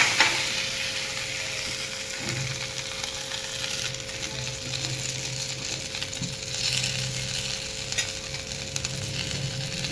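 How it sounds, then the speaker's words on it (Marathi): Thalipeeth, a crisp fasting flatbread, fries on a pan over low heat with a steady soft sizzle and occasional faint stirring or scraping, and no talk throughout. "आपण दुसरं पण असं टाकून घेऊया थालीपीठ"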